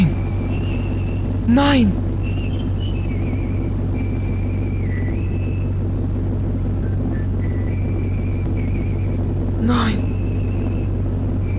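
A car engine in a video game drones steadily and loudly throughout, a low constant rumble, while a voice briefly shouts twice over it.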